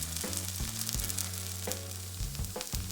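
Vegetable pancake frying over medium heat in a pan, a steady close sizzle with crackling spatter and a few light scrapes or taps, alone without voices.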